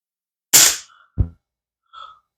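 Crosman 1377 air pistol firing an Apolo 9.0 domed pellet: one sharp, close crack, then a lighter thud of impact and a faint metallic ping from the target, with silence between.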